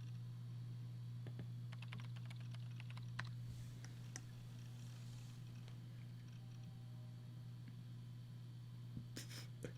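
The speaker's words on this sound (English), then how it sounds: "I sat down and began to type at the keyboard." Computer keyboard typing in the visual novel game Chaos;Head Noah, a scattered run of light key clicks over a steady low hum, with no voices.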